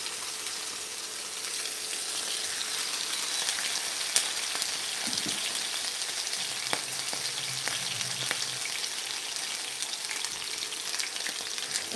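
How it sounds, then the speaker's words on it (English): Two pieces of meat fry steadily in olive oil in a pan, a continuous close sizzle and crackle with occasional sharper pops, and no talking. "And I'm adding 2 pieces of meat."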